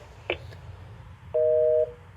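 On a FreePBX home phone system, a short soft blip gives way to a single loud, steady two-tone call beep lasting about half a second, heard near and alone over a faint background hum.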